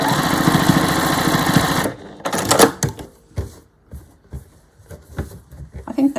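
Sewing machine stitching bunting flags, a steady mechanical whir at first that cuts off, followed by scattered clicks and handling noises.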